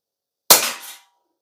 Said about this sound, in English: I'm going to shoot 5 shots through it again